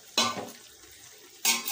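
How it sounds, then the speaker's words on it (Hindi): Chicken biryani masala with ginger-garlic paste stirred in a cooking pot, two short scraping clatters of a spoon against the metal pot separated by a quieter pause with faint background sizzle. "हमें इसमें अच्छे से इसे हमारे चिकन को चलाना है ध्यान से"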